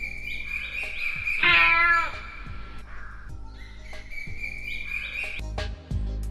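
A cat meowing, or a voice imitating one: a few drawn-out, wavering meows, fairly close and clear, in a quiet setting with light incidental sounds.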